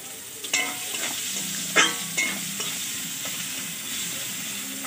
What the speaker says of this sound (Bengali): তেলটা আমার গরম হয়ে গেছে, এবার পেঁয়াজটা দিয়ে দেবো বন্ধুরা।